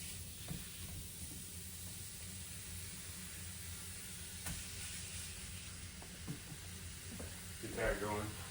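Steak fries in a pan with a soft, steady sizzling hiss, fairly quiet and continuous, broken by a few faint clicks and a brief utensil scrape near the end.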